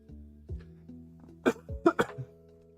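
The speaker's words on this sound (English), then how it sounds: "Pardon me if you heard that cough." A person coughs several times in short bursts, including a sharp, clear cough and a throat-clearing sound, recorded close up with no one speaking.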